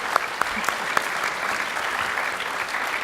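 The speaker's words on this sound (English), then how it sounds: "would you all please give a round of applause to the speakers again?" An audience at a science lecture and panel event applauds the speakers after the final question: steady, dense clapping at moderate volume with a few sharper individual claps near the start, holding evenly for about three seconds.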